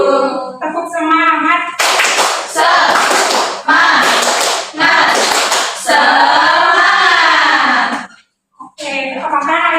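A primary school class does a rhythmic clapping chant, bursts of group hand claps alternating with voices calling out together, loud and close in a classroom.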